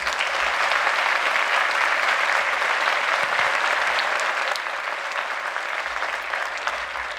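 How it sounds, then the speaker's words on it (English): Sustained applause from a large audience at an awards ceremony, a dense, steady clapping that holds throughout with little variation. "another big round of applause"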